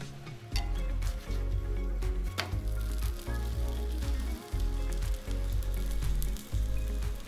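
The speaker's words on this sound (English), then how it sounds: "Listen to that toast, nice and crispy." Grilled cheese sandwich toasting in a hot pan, a steady crackling sizzle with occasional pops and soft scrapes, close and continuous throughout without talk.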